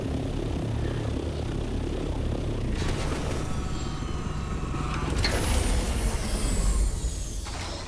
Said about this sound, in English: Advanced Thopter maneuvers.